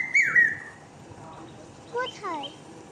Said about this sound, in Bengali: ওই গাছটায় পাখি ডাকতেছে